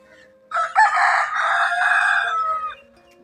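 A rooster crows loud and close on a sunny morning where chickens have been let out to roam, one long drawn-out call over a quiet background.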